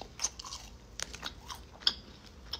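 Close, quiet chewing and crunching of candy, with irregular bites and a few sharper cracks over soft mouth sounds.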